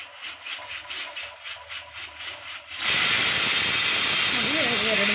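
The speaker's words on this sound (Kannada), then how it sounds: "ಎರಡು ವಿಜಿಲ್ ಬಂತು." A pressure cooker with mutton sambar inside. Rhythmic rubbing or scraping comes first, then the cooker releases with a sudden loud, sustained rush of hissing steam that stays near and strong, with a faint voice toward the end.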